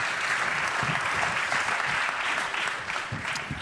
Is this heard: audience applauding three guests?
yes